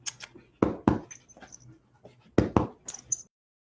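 A pet dog being coaxed up onto a couch gives a few short whimpers and panting sounds in bursts, close by, with brief gaps between them and no talking.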